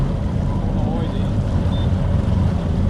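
A steady low engine drone with constant wash and wind noise, like a small outboard motor running on the water, continuous and close.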